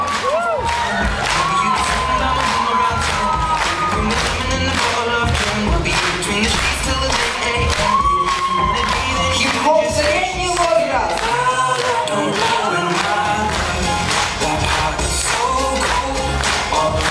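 Loud, continuous cheering and clapping from a concert audience at a 2022 year-end school show after a senior-age hip-hop dance number, with shouts throughout and music running underneath.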